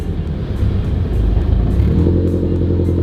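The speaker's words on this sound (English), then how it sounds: "Okay, that was the car, that's not me." A car engine idling after being started, a loud close rumbling drone that wavers slightly in pitch, steady and alone with no talk.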